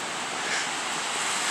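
Ocean waves break on the shore on a windy early spring morning, making a loud, continuous roar of surf mixed with gusting wind noise across the microphone, with no voices.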